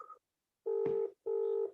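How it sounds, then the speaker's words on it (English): Two sustained electronic phone ring tones, each about half a second long with a short gap between them, quiet and somewhat distant, during an online lecture. "Someone's phone is ringing."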